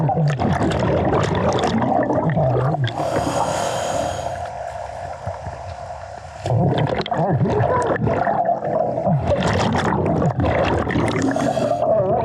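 A waterfall rushes steadily in a broad, loud wash of falling water that stays constant and close throughout, with no voices over it.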